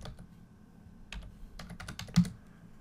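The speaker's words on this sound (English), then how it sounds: "we'll just type in today's date" Keys clatter on a computer keyboard while a date is typed into a form, a few scattered clicks and then a quick burst of keystrokes, close and fairly quiet over faint room hum.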